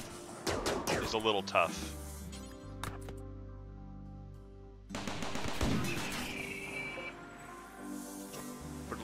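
Turrets firing in a desert survival game with mechs, bursts of rapid clattering shots in the opening seconds and again later, with someone talking between and over them.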